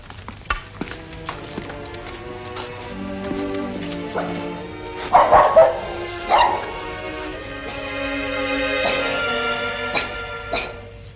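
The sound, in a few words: dog barking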